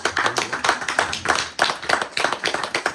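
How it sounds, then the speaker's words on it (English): An audience breaks into applause, a room full of brisk, rhythmic hand clapping that swells and dips in waves, heard alone without talk. "Give me a big round of applause."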